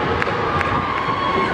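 Crowd at a Marvel film world premiere for Thor: The Dark World cheering and shouting loudly and steadily throughout, with close, dense voices and a few brighter yells rising above the roar.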